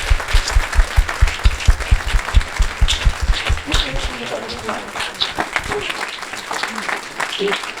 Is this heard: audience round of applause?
yes